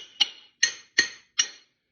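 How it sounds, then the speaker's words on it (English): Four sharp hammer blows, evenly spaced and ringing, as an axe head is driven onto a wooden handle; each strike is close and loud with a brief decay and silence between. "you kind of have to hammer it on a little bit"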